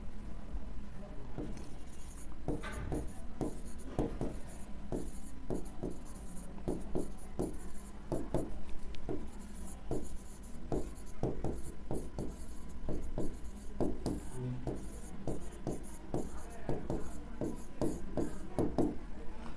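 A pen writes an accounting ratio formula by hand on paper, making faint, quick scratching strokes and taps in an uneven rhythm over a quiet room hum.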